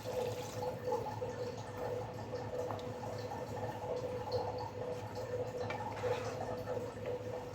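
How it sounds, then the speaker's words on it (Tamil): Water from a glass pours into a pot of onion kurma, a thick Tamil curry thickened with roasted gram. It makes a steady, continuous splashing that lasts throughout, at moderate loudness, with no voices. "ஒரு கிளாஸ் தண்ணி ஊற்றிக்கலாம்."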